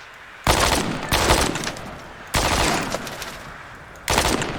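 Artillery rounds impact in Arma 3 as four loud, broad blasts at separate moments, each starting abruptly and trailing off into a rumbling decay, with quieter background ambience in between.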